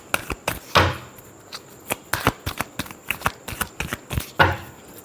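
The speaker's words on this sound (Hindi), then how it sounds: "last shuffle" Tarot cards being shuffled close up, a quick irregular run of crisp riffling flicks and slaps continuing for several seconds without talk.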